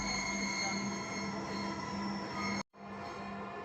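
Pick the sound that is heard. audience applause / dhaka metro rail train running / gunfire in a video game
dhaka metro rail train running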